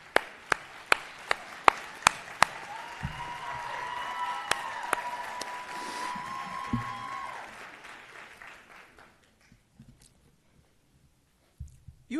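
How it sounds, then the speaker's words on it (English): Applause for faculty members rises at a nursing convocation, opening with several sharp separate claps, then swelling into a dense, sustained crowd clapping before fading out to near silence. "So let's applaud our faculty members."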